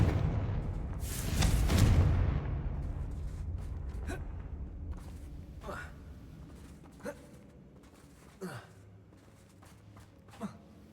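A Confringo blasting spell in Hogwarts Legacy goes off as one loud, heavy explosion that rolls into a fading rumble, followed by sparse faint thuds and gasping breaths.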